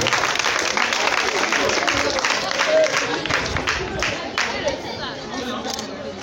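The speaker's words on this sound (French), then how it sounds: "Applaudissez s'il vous plaît pour les autres qui sont admis." Audience applause for admitted students at a ranking announcement: dense, steady clapping from a crowd throughout, mixed with murmuring chatter, fading slightly toward the end.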